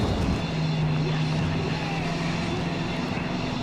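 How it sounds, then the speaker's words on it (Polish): Helicopter from the video game Far Cry 5, a steady droning rotor and engine hum with a sustained low tone, continuous and fairly loud throughout. "Naprawdę, kolejny helikopter."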